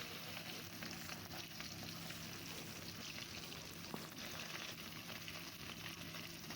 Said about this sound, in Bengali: এভাবে মাছটা উল্টে পাল্টে লাল করে ভালো করে ভেজে তুলতে হবে